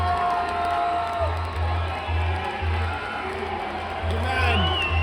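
A Scottish crowd cheers and shouts in a rugby stadium, a broad roar with whoops rising over it, while a person talks close by over the noise.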